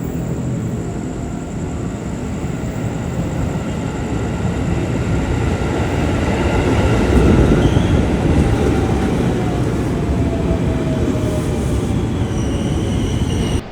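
The Gajayana passenger train rumbles steadily past close by at Gambir station, wheels clattering on the rails with a faint squeal rising midway, loud and sustained throughout.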